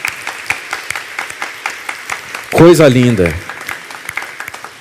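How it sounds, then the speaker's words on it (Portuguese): At a talk by a priest, an audience gives a loud burst of applause, with sharp claps scattered throughout, while a voice briefly speaks over it midway. "Vamos dar uma salva de palmas para esses três."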